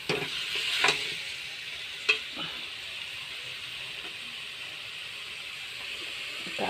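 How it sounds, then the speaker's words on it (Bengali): Jackfruit biryani ingredients sizzle and hiss as they are sautéed and stirred in a pan, with a few sharp scrapes of the spoon early on before the steady frying settles into a continuous, moderately quiet crackle. "এবার ভালো করে কষিয়ে নেব।"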